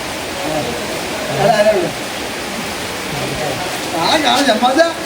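Rain falls in a steady, loud hiss throughout, with people talking over it at intervals.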